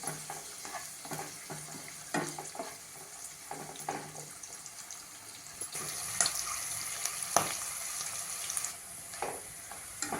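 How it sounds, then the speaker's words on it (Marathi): Capsicum and onion frying in butter in a pan, a soft sizzle under intermittent scraping and stirring knocks, fairly quiet and close with some watery clatter in the background. "आपण ढोबळी आणि कांदा फ्राय करतोय त्यात एक चमचा बटरही घालते"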